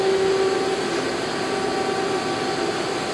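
A Yama Seiki SW 32 CNC Swiss lathe running, a loud continuous mechanical whir with a steady hum and a faint high tone, no speech.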